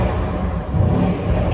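A Mercedes-AMG GT63S engine revs in a tunnel with a rev limiter near 4,000 rpm, giving a deep, booming, echoing rumble that swells briefly mid-way; no separate pops stand out.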